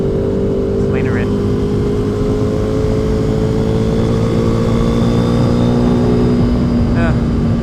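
A 2015 KTM RC390 sport motorcycle engine drones steadily and loudly at constant revs while riding, with heavy wind rush, close up, and a few brief voices over it.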